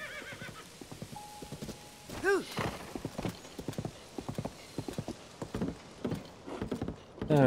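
Steady clip-clop of horse hooves trotting in the video game The Legend of Zelda: Tears of the Kingdom, with a brief whinny partway through and a faint patter like rain in the background.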